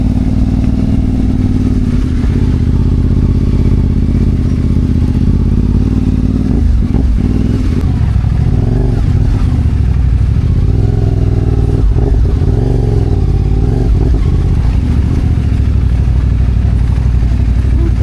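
A CFMoto adventure motorcycle, already muddy, on an early trail ride between General Nakar, Quezon and Dingalan, Aurora, drones steadily throughout with a low engine rumble, road and wind noise, and occasional clattering bumps.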